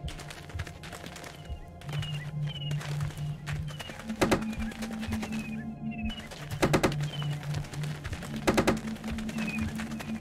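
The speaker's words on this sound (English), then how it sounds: "stop with the ghost birds" Ghost bird calls in the video game Manamon 2: short, repeated chirping cries over steady low synthetic tones, with a few sharper clicking bursts, all electronic game audio without speech.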